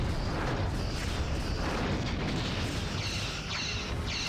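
Polaron torpedo explosions during a Star Trek ship battle video game, a dense, continuous low rumble with dull booms swelling toward the end.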